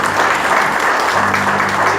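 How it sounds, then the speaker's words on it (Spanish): Loud, steady applause from a church congregation at a Spanish-language conference, acknowledging a brother after a prayer, with the dense clapping holding evenly throughout. "Muy bien, un aplauso para el hermano Raúl"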